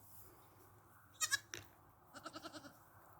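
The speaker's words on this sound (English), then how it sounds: "Our new baby goat." Nigerian Dwarf doeling kid on a hobby goat farm bleating, a pair of short high cries followed by a rapid stuttering series of bleats, close and clear against a quiet barnyard.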